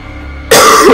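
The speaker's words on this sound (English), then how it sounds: "Excuse my cough" A single loud, close throat-clearing cough bursts out suddenly after a quiet moment during a horror video game session.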